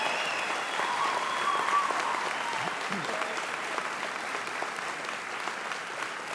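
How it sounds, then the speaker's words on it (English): Audience at a medical school white coat ceremony applauding, steady dense clapping from a large hall crowd held at an even level from start to finish, with no talk over it. "let's have an applause for the first woman Surgeon General of this United States of"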